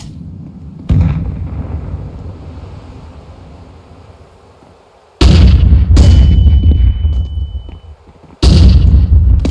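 In a Counter-Strike match, a grenade blast and heavy booming detonations go off in loud bursts, with rumbling between, one beginning near the start and two more big hits later.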